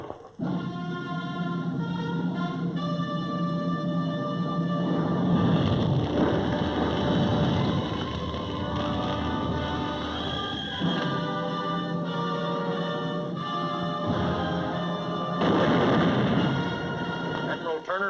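Mortar barrage and artillery fire at Iwo Jima, heard as heavy, rolling booms and rumbles that swell and fade under sustained music.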